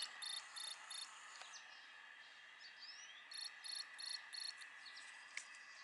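Cricket chirping in quick repeated bursts against a steady high insect drone, with brief pauses between trills; calm night ambience, no voices.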